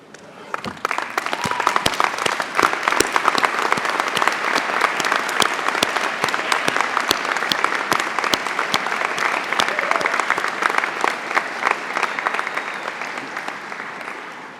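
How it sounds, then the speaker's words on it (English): Graduation audience, standing and facing family and friends, gives a sustained round of loud applause for nearly fifteen seconds, dense clapping with sharp individual claps standing out, fading slightly at the end. "join me in a round of applause to say thank you"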